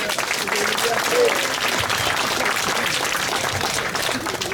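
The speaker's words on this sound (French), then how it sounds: "je vous demande d'applaudir Philippe Millot" An audience at a July 14 political gathering in Sainte-Anne-d'Auray claps steadily in warm, sustained applause that holds at an even level throughout, with a faint voice briefly heard above it.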